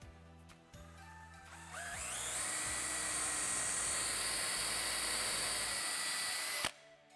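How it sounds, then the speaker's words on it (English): A cordless power drill runs as its trigger is pressed in a shop: a few short clicks, then a rising whine that settles into a steady, loud drone for about five seconds before stopping abruptly. "To drill, press on the trigger."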